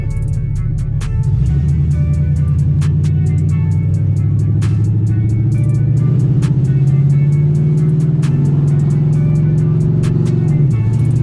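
A turbocharged LS-powered Camaro driving and accelerating, its engine drone rising steadily in a loud, close, continuous roar from the cabin.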